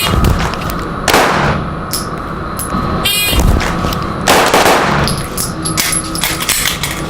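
Pistol shots during a fast draw drill at an outdoor shooting range, three or four loud sharp reports spaced about a second or two apart, with clanking between them.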